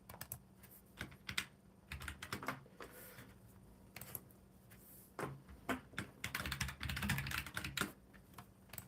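Quick bursts of clicky keystrokes on a computer keyboard, close and fairly quiet, with irregular pauses between flurries of typing.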